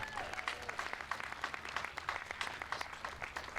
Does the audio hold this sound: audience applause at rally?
yes